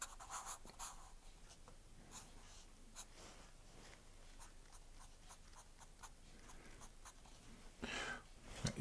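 Pencil or marker scratching on paper while drawing a farm woman figure, a quiet run of short irregular strokes and rubs close by, with a louder scratch near the end.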